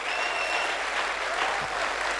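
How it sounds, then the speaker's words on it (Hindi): Loud, steady applause from a crowd at a speech event, continuous clapping filling the whole moment without letup. "एक जोरदार ताली अब तक की।"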